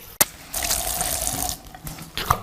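Tap water runs and splashes over hands and face during Islamic ablution washing, close and fairly soft, with a sharp click at the start and uneven bursts of pouring and dripping.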